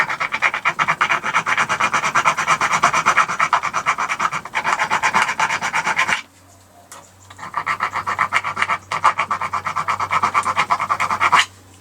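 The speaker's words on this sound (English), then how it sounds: "I filed it some more with the barrel, the rounded tubular type file." A round barrel file rasps back and forth on metal while parts of a 1983 Yamaha RS125DX rear wheel bearing assembly are cleaned up, in rapid rhythmic strokes, close and loud, with a short pause midway before the filing resumes.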